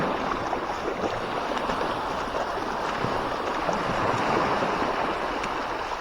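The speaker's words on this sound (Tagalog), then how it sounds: "Lumalakas na yung agos, tumataog na." Strong tidal current surging where the sea meets a river, a steady broadband rush of moving water with a faint wash of wind, continuous and close with no talking.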